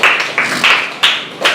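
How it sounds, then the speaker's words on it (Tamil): A congregation at a Tamil Christian worship service claps hands together in a steady rhythmic beat, about one loud clap every half second. "கைத்தட்டி ஒரு ஆமென் சொல்லுங்க."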